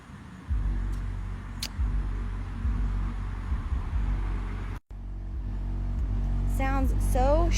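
Squatted pickup truck engine revving loudly nearby, a sustained low roar that cuts out briefly and then climbs again in rising revs, with someone talking over it.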